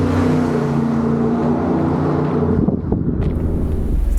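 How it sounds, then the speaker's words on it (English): A race-built van with a side exit exhaust idles with a loud, deep, steady rumble close by, its low drone shifting slightly near the end with some wind noise. "The side exit exhaust is super cool."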